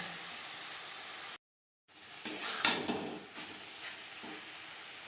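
A spatula stirs papaya with ghee and spices in a pan for a vegetarian papaya ghonto, giving soft scraping and gentle sizzling close by. A brief silent gap comes early, followed by a few louder scrapes.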